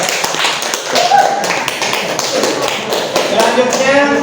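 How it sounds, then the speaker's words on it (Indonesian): A group of students claps together for a classmate after a presentation in a school class, a dense, fairly loud patter of many hands sustained throughout, with talk mixed in. "tepuk tangan dulu buat teman"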